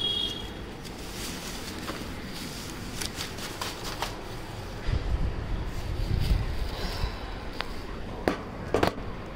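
Gusty wind buffets the microphone outdoors on a windy day, a steady broadband rush with stronger low rumbling gusts toward the end and a few sharp rustles and clicks.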